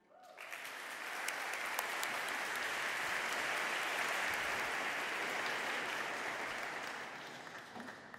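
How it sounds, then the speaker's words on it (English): An audience at an EU Christmas concert claps steadily for around eight seconds, a dense, even burst of applause that rises quickly and slowly fades, with no voices over it. "Un grand applaudissement à Noria Humla."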